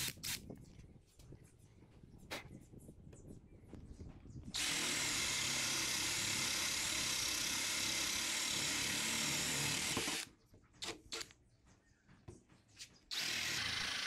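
A SKIL 20V cordless hammer drill, model HD52944SE20, with a 35 mm cup-hinge bit boring wood whines steadily at full speed for several seconds, loud and close, with quieter handling and tool noise before and after.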